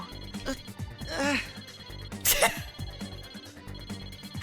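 A phone ringing in the fighting game Persona 4 Arena Ultimax: short warbling electronic ring tones rising over a busy game background with music, moderately loud and brief.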